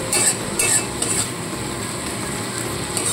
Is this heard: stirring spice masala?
yes